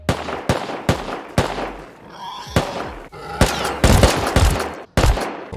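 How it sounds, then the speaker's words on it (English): Rapid gunfire in the survival video game Rust, a string of sharp loud shots in bursts with brief pauses, close and punchy, with a short lull in the middle before more shots crack out. "Bro, I'm getting shot from behind."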